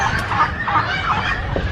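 Chickens clucking at a bird park in Islamabad, a loud, close run of short clucks and fowl calls rising and falling over about two seconds.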